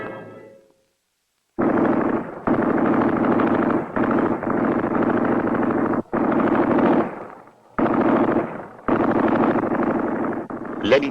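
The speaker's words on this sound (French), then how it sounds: "La mitrailleuse prend la relève." A machine gun fires in long sustained bursts with brief gaps between them, loud and close, after a short stretch of near silence.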